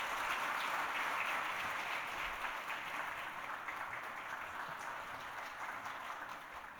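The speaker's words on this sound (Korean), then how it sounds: "큰 박수로 축하해 주시기 바랍니다" A church congregation gives sustained applause at a ceremony, dense steady clapping filling the room that slowly tapers off.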